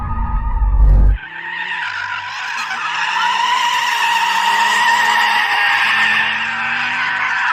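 Performance car tyres squealing under wheelspin as the driver warms them up, a loud, sustained screech that rises after a short burst of engine noise and holds steady to the end, with no talk.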